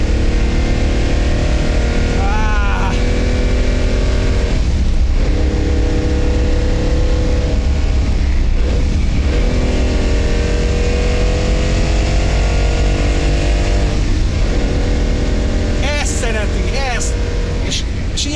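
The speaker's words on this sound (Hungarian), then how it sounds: "amikor így elkezd énekelni a 12 henger" A V12 car engine sings and revs continuously on the open road, loud and close throughout, while someone talks over it.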